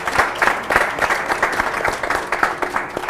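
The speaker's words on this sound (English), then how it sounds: "I think you all deserve a round of applause." An audience at an African Union summit panel discussion in 2016 gives a dense, steady round of applause, many hands clapping together close and loud for the whole stretch.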